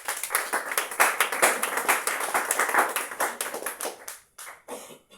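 A church congregation claps in quick, lively unison for several seconds, the applause dense and close before thinning out and fading near the end.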